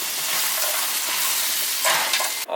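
Food fries on a Weber Q grill with a loud, continuous sizzle and hiss, close up, briefly louder near the end with a faint clatter as it is stirred.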